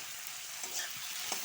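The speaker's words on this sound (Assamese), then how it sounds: "এতিয়া ভালকৈ ভাজি ল'ম গলি যোৱালৈকে" Onion, tomato and green chili fry in a pan with a soft, steady hiss of sizzling oil and a few faint stirring scrapes, close and quiet with no talking.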